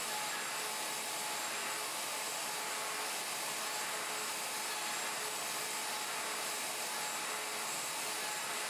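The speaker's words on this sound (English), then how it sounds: "Plunge the router and route the front mortise, starting with a series of overlapping plunge cuts at full depth." A plunge router cuts overlapping full-depth plunges for a mortise in wood on a Leigh FMT Pro jig, giving a steady, loud high-pitched motor whine that runs continuously without pause.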